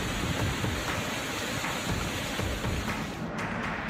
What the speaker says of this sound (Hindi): मूसलाधार बारिश बनी आफत।